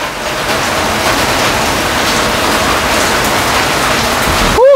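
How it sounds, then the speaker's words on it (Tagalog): Rain pours steadily as a dense, loud, continuous hiss throughout, with a brief whooshing sweep right at the end. "Umulan, mga dear, pasensya na maingay."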